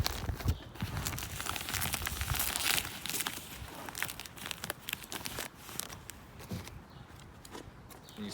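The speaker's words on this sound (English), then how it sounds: "these paper flaps on the edge pull up" Paper flaps along the edge of a folded paper project are pulled up, giving a soft, continuous close-up crinkling and rustling with small tearing crackles.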